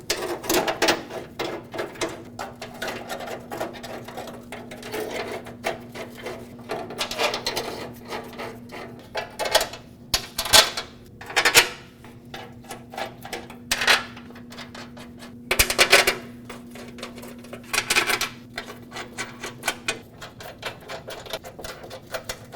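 Bumper bracket bolts being snugged up on a 2009-2010 Dodge Ram 1500, heard as a run of clicking, ratcheting mechanical bursts with scattered louder clanks of metal, close by over a steady low hum, with no talking.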